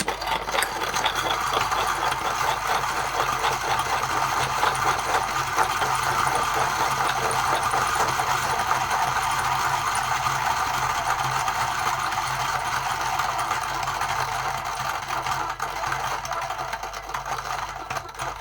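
A coffee grinder runs at 200 RPM with a steady, loud mechanical whir and rattle, continuous for the whole stretch with no talking.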